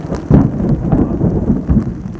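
Heavy monsoon rain falls during the first downpour of the season, a loud, dense wash that never lets up. Low thunder rumbles surge beneath it in a few heavier swells, and no voices are heard.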